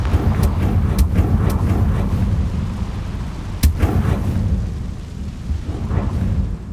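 In Hogwarts Legacy the Confringo spell sets off a fiery blast. A heavy, rumbling explosion fills the clip with a sharp crack partway through, over a dense low roar that fades slowly.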